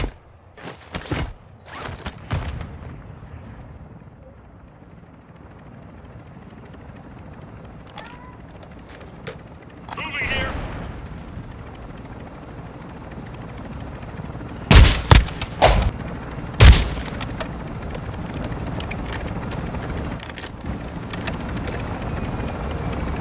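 Gunfire in the video game DMZ during a White Lotus Tier 4 mission: a few loud sharp shots and bursts stand out, especially in the middle stretch, over a steady low rumble of engines and battlefield ambience.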